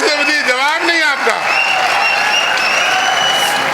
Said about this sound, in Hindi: भरपूर तालियां एक बार भाई।